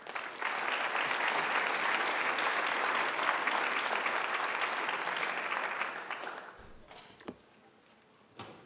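Loud, dense audience applause at a lecture on Christian political witness, sustained for about six seconds before tapering off into a few scattered claps and room noise.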